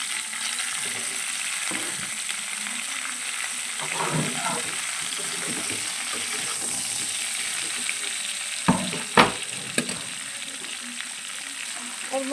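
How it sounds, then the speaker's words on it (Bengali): Pointed gourd and potatoes fry in hot oil after shrimp, giving a steady close sizzle with occasional stirring scrapes and a couple of sharp knocks. "এবার ওই তেলের মধ্যে পটল আর আলুগুলো ভেজে নেব।"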